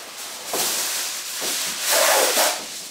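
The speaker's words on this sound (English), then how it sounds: "We're going to start by lining our countertop here with some aluminum foil" Aluminum foil being spread out over a kitchen countertop, giving a close, crinkly rustling that comes in a few swelling bursts, loudest near the end, with no talking.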